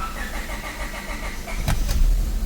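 A 2005 Honda Civic with a misfire problem is started again: a steady engine churn, then a couple of sharp clicks and a swelling low rumble as the engine catches and runs.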